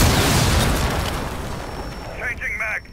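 A loud explosion goes off in a shooter video game and rumbles as it fades over a couple of seconds. A voice speaks briefly near the end.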